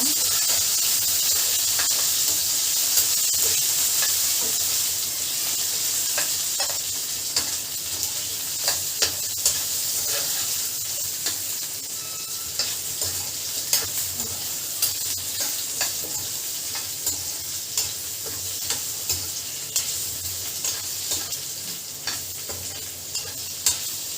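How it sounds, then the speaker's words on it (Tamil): Potato pieces frying in oil in a pan for palak potato gravy, a steady loud sizzle with occasional stirring scrapes and pops throughout. "கீழே போட்டுருக்கிற இந்த உருளைக்கிழங்கு வந்து ஃப்ரை பண்ணுங்க."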